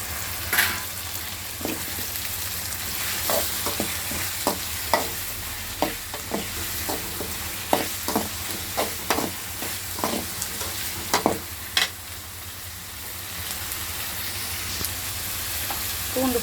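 Onions and tomatoes sautéing in a pan, a continuous close sizzle punctuated by repeated scraping stirs and spatula taps in an irregular rhythm, with no talking.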